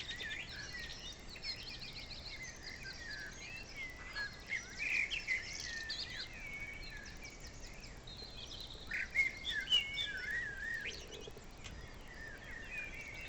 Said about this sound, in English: There's a blackbird up on that tree just behind me.